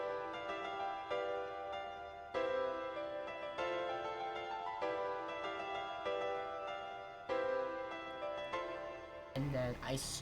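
A two-part piano melody for a song chorus made in Bandlab repeats in phrases over a steady backing, with a brief change in texture at the very end.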